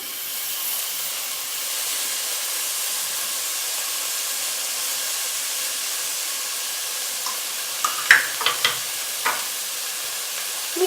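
Milk powder and condensed milk are stirred together in a pan, a soft steady hissing scrape that runs for several seconds, followed by a few brighter clinks and scrapes near the end.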